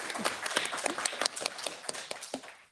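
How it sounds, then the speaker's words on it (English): Audience applause in a room at a policy discussion event on the EU Regulatory Scrutiny Board, a steady crowd of clapping hands lasting a few seconds before fading out. "Yes, you can also applaud."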